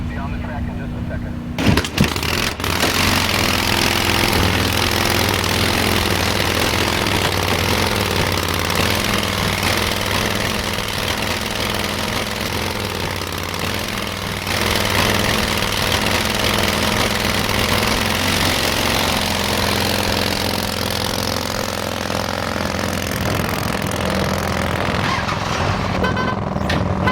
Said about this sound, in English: We are firing up 2785, the Lamb liner.